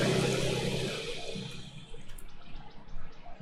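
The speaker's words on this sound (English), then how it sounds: "press the left-hand red button to start the table" A sluice wash table powering up in Gold Rush: The Game, producing a loud, steady rush of flowing water that gradually thins into a lighter, bubbling trickle.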